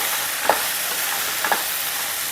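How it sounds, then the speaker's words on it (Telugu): Okra and egg fry over a low flame in a pan, giving a steady soft sizzle broken by two brief scraping stir sounds about a second apart, with no one speaking. "ఇలా లో ఫ్లేమ్ మీద మనం వేపేసుకున్నాము"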